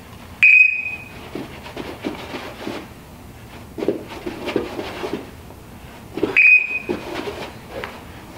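A workout timer beeps twice, each a sharp high electronic tone several seconds apart, between rustling and shuffling movement sounds of push-up exercise.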